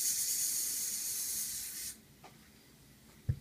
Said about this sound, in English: I just have to keep adding hairspray